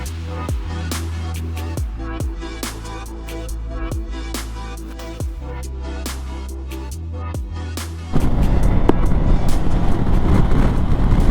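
Steady engine drone and wind rush from a 2022 BMW K1600 B bagger motorcycle riding out of Orange County toward Anza Borrego, with rhythmic thumps through the first part, then a louder, broader wind roar near the end.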